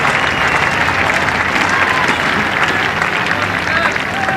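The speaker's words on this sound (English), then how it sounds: "Applause for the half century up." A cricket crowd applauds a half century during the fifth day of the fifth Ashes Test of 1981, a dense, steady wash of clapping that holds at even loudness throughout.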